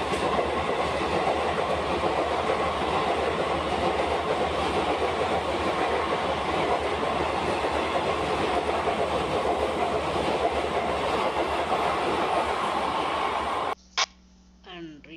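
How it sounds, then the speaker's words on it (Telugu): Ongole to Vijayawada MEMU express train running steadily, a continuous loud rumble with rail clatter filling most of the stretch, then stopping abruptly near the end, leaving a brief quiet with a faint knock or two. "ఇది Ongole to Vijayawada memo express అనమాట"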